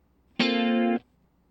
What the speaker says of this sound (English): And now the same chord, but with micro pitch.